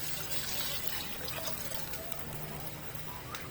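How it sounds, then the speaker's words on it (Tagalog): Water pours steadily into a pot of red-cooked tiger shrimp to make sinigang broth, a continuous splashing trickle lasting a few seconds at moderate distance, with no voices. "lalagyan na natin siya ng tubig nito"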